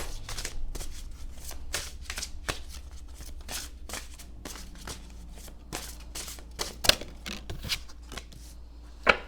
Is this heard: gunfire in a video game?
no